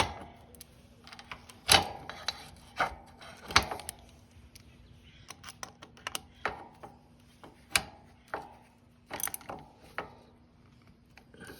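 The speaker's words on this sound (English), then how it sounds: "So this is only a 5mm, so it doesn't need that much torque" Tightening a 5 mm bolt on a Triumph Speedtwin brake caliper, a series of close, sharp ratcheting clicks and metallic taps in irregular bursts, quiet gaps between them.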